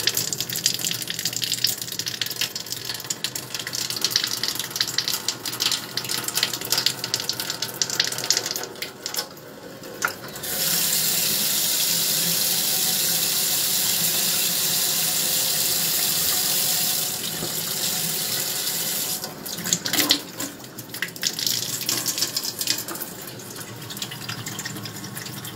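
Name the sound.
water flushing from ecoagua purifier after filter change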